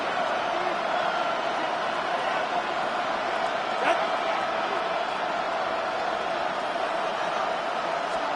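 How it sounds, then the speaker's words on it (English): A steady roar from the stadium crowd in the Madden 26 football game fills the clip at a constant, loud level. "This crowd turning up the decibel level."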